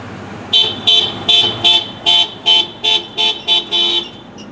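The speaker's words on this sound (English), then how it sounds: "Here's a look at Stony Point Elementary's parade coming down my street" Horns toot again and again in an even rhythm, about ten loud bursts, as a school parade of staff cars and buses passes down a residential street, with no voices.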